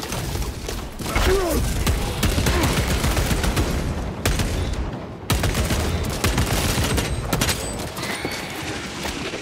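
Rapid, sustained gunfire in the video game Warhammer 40K Space Marine 2, dense bursts of shots with thuds and impacts, loud and continuous with a brief pause midway, no talking.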